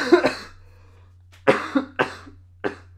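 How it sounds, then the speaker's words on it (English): Several sharp, dry coughs close to the mic: one at the start, then a quick cluster of three and a final single cough. "almost made it through the intro without coughing"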